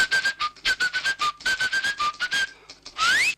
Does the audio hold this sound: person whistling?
yes